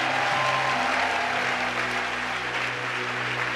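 A church congregation applauding to acclaim the Lord, a steady dense wash of clapping from many hands throughout, loud and sustained without pause.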